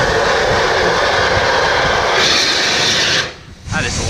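The Polar Express train's locomotive roars loud and close with a dense, broad rumble that holds steady, then briefly drops away near the end before resuming.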